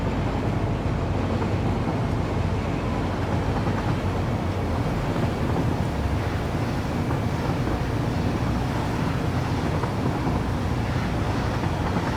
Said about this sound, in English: So this train should come over that way and head on over to pick up bauxite and coal.